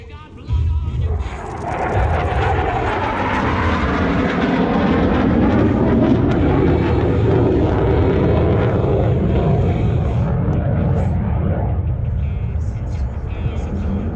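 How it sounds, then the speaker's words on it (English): An F-16 Fighting Falcon fighter jet roars loudly and continuously through a four-point roll at an air show display, a sustained engine rumble with an announcer's voice over the public address. "we will rock you with the 4-point roll. F16 ファイティングファルコンによる4ポイントロールです。"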